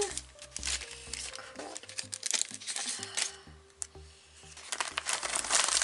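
A mail package is opened up close, with soft irregular crinkling and rustling of wrapping material and small taps, fairly quiet throughout.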